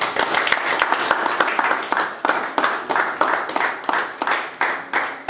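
Rhythmic clapping from a French-speaking church congregation during a worship service: loud, steady, repeated handclaps in an even beat, close and continuous, with voices mixed in underneath.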